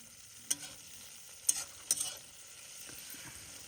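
Cluster beans (guar) fried in oil in a home kitchen, a soft steady sizzle with a few sharp clinks or stirring knocks, fairly quiet and with no talk.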